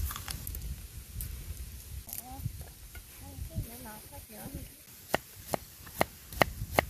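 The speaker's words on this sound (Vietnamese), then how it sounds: "Mình bầm nhuyễn ra." Garlic being minced finely with a knife for grilled pork, heard as a run of sharp, separate chopping taps near the end, preceded by quieter rustling and people talking.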